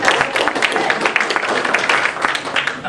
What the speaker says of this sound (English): They clap after everything.